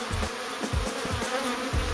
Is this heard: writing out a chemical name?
no